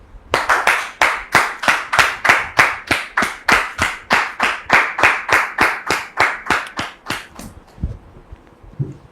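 A studio audience claps in steady, strongly rhythmic unison to welcome a guest, with about two dozen loud, even claps that stop abruptly and leave a brief quiet tail.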